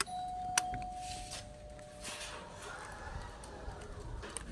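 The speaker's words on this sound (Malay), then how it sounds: "jom kita buka loceng" A doorbell at a house rings once with a clear electronic tone early on, then fades into quiet background noise.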